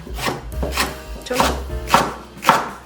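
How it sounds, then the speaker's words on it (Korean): Half a green onion sliced with a knife on a cutting board, making five or six soft, evenly spaced thuds with a light scrape of the blade, close and clear. "대파는 반을 가르시고 그냥 송송 썰어주시면 됩니다"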